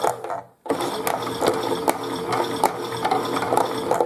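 A pink Chad Valley toy washing machine runs its drum in a slow tumble, giving a steady mechanical whirr with rhythmic ratcheting clicks after a brief drop to near silence, close and fairly loud.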